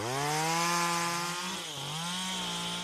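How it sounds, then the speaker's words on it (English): A chainsaw clearing overgrown brush in the Saratoga foothills whines loudly and close, its engine pitch holding steady, then dipping briefly as it bites and recovering. "The chainsaw buzzes away"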